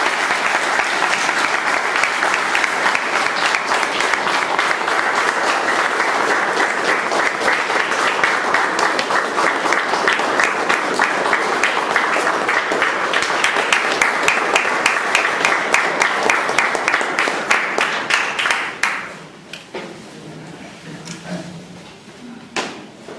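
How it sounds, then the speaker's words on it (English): Loud, sustained audience applause for a female performer, dense clapping holding steady for about nineteen seconds before abruptly thinning out into scattered claps and a few voices. "I think she deserves one more round of applause."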